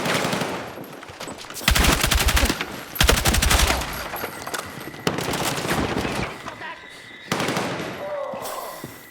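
Rifle gunfire in the video game Battlefield 6 erupts as loud, rapid automatic bursts separated by brief pauses, with a quieter stretch of background combat between volleys.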